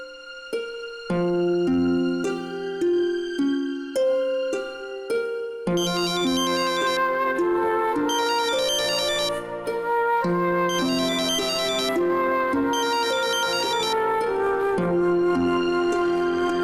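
A phone ringtone plays loudly and steadily for the whole stretch, a repeating melodic ring pattern with no talk over it, during a scene as a call is being placed.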